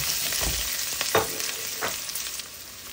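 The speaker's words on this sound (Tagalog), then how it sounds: "ilagay na natin yung bawang, yung garlic. So, igisa lang natin siya." Garlic sautéing in a pan for Japanese chicken curry gives a steady close sizzle with a few soft stirring scrapes, no voices.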